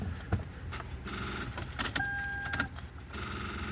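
Car keys jangle close by in short metallic rattles, with a brief tonal chime in the middle, during a pocket jump starter test on a car with a weak battery.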